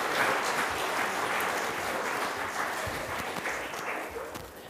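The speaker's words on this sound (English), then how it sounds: "give me a clap" A church congregation claps during a Sunday service, with loud, dense clapping from the start that holds steady for a few seconds before easing off slightly toward the end, without talk.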